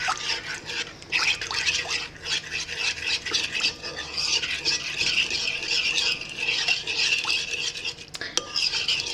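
Sourdough tortilla ingredients being stirred together in a bowl, with steady scraping and clinking of a utensil against the dish, close and continuous, without talk.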